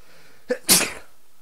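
A single sharp sneeze with a short intake before it, close and loud, alone against near silence.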